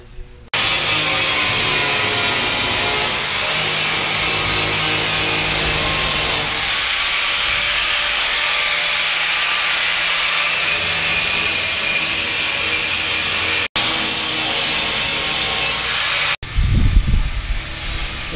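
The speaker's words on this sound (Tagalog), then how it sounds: "nagra-grind nga sila sa ceiling" Workers grinding a metal ceiling frame at a building project site, a steady loud broadband hiss of abrasive on steel running continuously, briefly cut twice near the end, with a closer low rumble in the final seconds.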